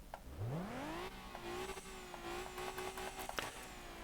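A V6 car engine in the video game Motor Town revs up sharply, then holds a steady drone with light tire noise, fairly faint and with no talk.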